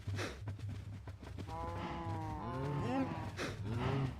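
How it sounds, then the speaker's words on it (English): Minecraft cows lowing in a game world, several drawn-out moos overlapping in close succession over a low background hum. "A whole lot of cows."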